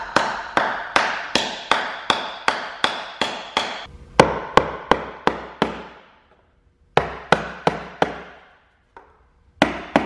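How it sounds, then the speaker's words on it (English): Repeated hammer blows on a Porsche Cayman engine part, struck with a larger hammer: sharp metallic strikes in quick bursts of about ten, a pause, then a few more groups, loud and close with no talking. "let's try this again with a little bigger hammer"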